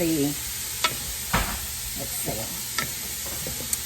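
Chopped onions sauté in a hot pan for potato soup, sizzling steadily while a spoon scrapes and stirs in a few sharp, close strokes, with no voices.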